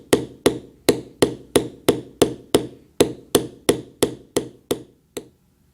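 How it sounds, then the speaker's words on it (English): A metal beveling tool is struck with a mallet on leather, about fifteen sharp, close knocks at an even steady rhythm that fade slightly toward the end. "we'll bevel"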